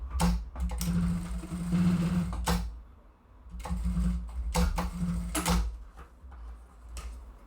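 A sewing machine stitches a small fabric toiletry bag in quick rattling bursts, a long run followed by shorter ones with brief pauses between, close and clear.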